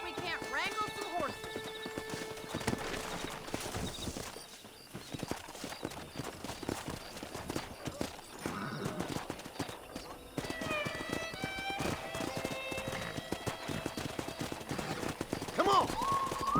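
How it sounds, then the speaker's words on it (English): Horses in the Western game Red Dead Redemption clip-clop steadily at a gallop, with occasional neighs and whinnies rising over game music and intermittent speech. "Let's see if we can't wrangle some horses."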